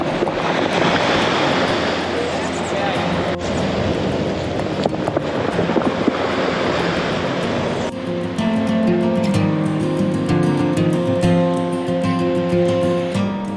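Surf washing over rocks on a Guadeloupe beach, a steady loud broadband rush with wind buffeting the microphone, continuing alone without talk throughout.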